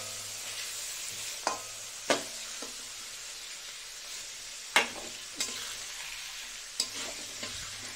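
Egg and chicken for chow mein fry in oil with a low continuous sizzle, punctuated by several sharp scraping clacks of a spatula stirring in the pan, fairly close and without talk.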